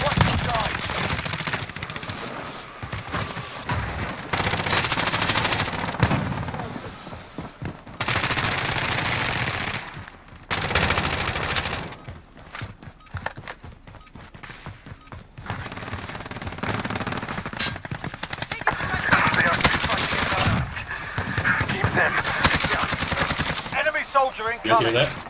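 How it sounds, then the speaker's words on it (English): Machine gun and rifle fire crackle in rapid bursts throughout Call of Duty Warzone's Verdansk destruction nuke event, loud and dense with short gaps, mixed with explosions and occasional voices. "I'm gonna go away from the gunfire so I can hear better"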